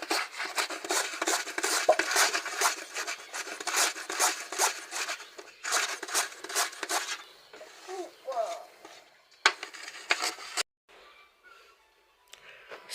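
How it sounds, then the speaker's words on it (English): A knife slices sweet potatoes into small chips, giving rapid rhythmic scraping strokes close up, with brief pauses and a few sharper cuts before the cutting stops near the end. "we are done slicing. See those small sweet potato chips?"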